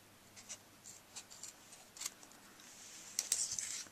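Scissors trim the end of a zipper with a few soft, quiet snips spaced apart, then a longer, crisper cluster of cuts near the end, close by with no talking.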